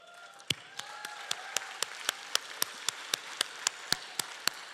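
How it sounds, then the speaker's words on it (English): Gala audience at a youth charity fundraiser clapping in sparse, evenly spaced sharp claps rather than full applause, fairly faint against room murmur with a soft tone in the background. "Thank you for cheering that."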